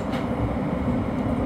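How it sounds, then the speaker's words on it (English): An E local subway train on New York's 6th Avenue line rumbles steadily along the track, a continuous loud low roar of wheels and car noise throughout, heard from inside the train with no voices. "This is a Delancey Street-Essex Street bound E local train via the 6th Avenue line."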